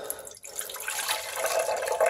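Water pours steadily out of the opened drain valve of an Omega VSJ843 slow juicer, a close, continuous trickling splash that builds slightly and runs on without any talk.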